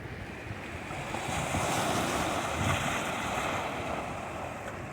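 Sea waves wash steadily onto the shore, a continuous broad rush of surf swelling slightly midway, with wind buffeting the microphone; no voices.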